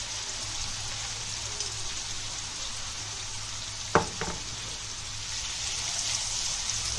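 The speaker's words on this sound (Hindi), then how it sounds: "प्याज को भुनेंगे अच्छे से" Steady sizzling of onions frying in a pan, a constant hiss throughout with one brief clatter partway through.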